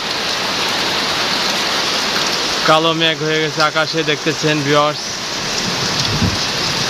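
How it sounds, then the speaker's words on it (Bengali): Heavy rain pours steadily in Faridpur district under dark clouds, a loud, continuous hiss of drops on surfaces. Someone talks over it for a couple of seconds in the middle. "প্রচুর পরিমাণ বৃষ্টি নামতেছে"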